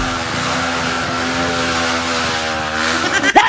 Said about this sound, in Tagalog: Kaya yung sumunod, napakalakas ng tunog, parang 400cc.